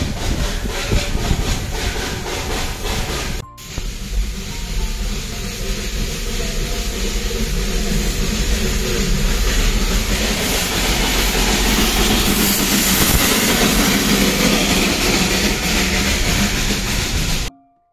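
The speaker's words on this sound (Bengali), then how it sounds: "টয় ট্রেনের ভাইবস নেব না, তাও আবার দার্জিলিংয়ে, এটা তো সম্ভবই নয়" Darjeeling toy train rolling along, a loud continuous rumble and hiss with rattling carriages heard from on board, briefly cut near the start then steady to the end.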